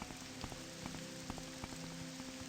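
Rain falling on a very rainy morning in the town of Bal Foyen in the game Tamriel Rebuilt, a steady dense patter with occasional heavier drops and a faint low hum beneath, continuous and with no talk.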